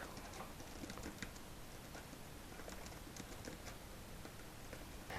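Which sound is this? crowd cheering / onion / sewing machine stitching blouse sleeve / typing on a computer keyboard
typing on a computer keyboard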